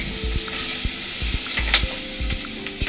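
Curry chicken and potatoes fry in hot oil, a dense loud sizzle close by, with a spoon scraping and knocking against the pot in a regular stirring rhythm, and no talking.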